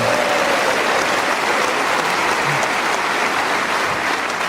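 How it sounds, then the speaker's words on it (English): A studio audience at a BBC radio comedy panel show breaks into loud, sustained applause, a dense, steady wash of many hands clapping that holds evenly for several seconds with no talk over it. "And still you clap."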